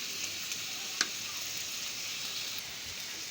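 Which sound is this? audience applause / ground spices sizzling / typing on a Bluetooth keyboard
ground spices sizzling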